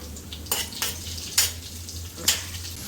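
Curry leaves and asafoetida spattering in hot oil in a Goan tomato dish, a few sharp crackling pops over a steady low hum, close and fairly quiet.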